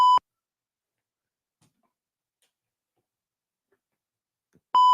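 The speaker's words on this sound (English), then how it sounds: "I'm gonna keep beeping in y'all ear" Two short electronic beeps, one at the start and one at the end, separated by near silence.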